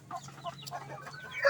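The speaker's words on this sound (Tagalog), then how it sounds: "Yan ang uso ngayong mga lahi ng mga manok." Soft, scattered clucking from shamo chickens, close by, with a brief sharper squawk near the end.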